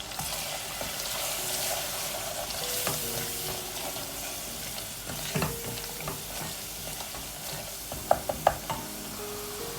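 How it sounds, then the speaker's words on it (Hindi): Spices with paprika powder and salt frying in a pan over a medium flame for boiled egg curry, a steady soft sizzle with stirring scrapes and a few sharp clinks near the end. "तो थोड़ी देर के लिए हम उसको भूनेंगे दरमियानी आंच पर"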